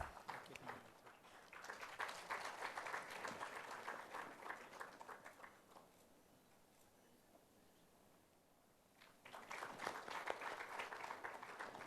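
A conference audience at a GST event applauds stall exhibitors, a burst of many hands clapping that fades to near quiet midway, then swells again, fairly distant and faint overall.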